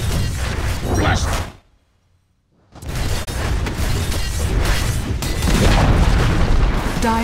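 A Dota 2 tower is destroyed in a loud, booming explosion with crashing debris and whooshes, broken by a short silence before the heavy rumble resumes.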